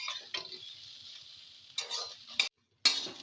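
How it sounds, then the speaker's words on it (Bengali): A spoon scrapes and stirs turmeric through sizzling food in a frying pan, coming in a few short separate bursts broken by brief quiet pauses, near and fairly soft, with no talking. "এটাকে একটু নেড়ে চেড়ে নেব ভালো করে।"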